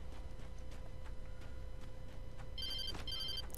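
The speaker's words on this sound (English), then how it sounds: "Oh, phone." Telephone ringing in the video game Alan Wake, two short bursts of trilling electronic ring near the end over a quiet ambient hum.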